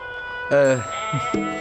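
A sheep gives a loud, wavering bleat close by, then two shorter bleats follow over a steady tonal background hum.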